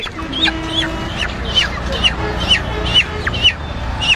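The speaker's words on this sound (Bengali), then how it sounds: "মুরগি" Several chickens cluck in quick, repeated calls at close range over a busy background murmur at a market.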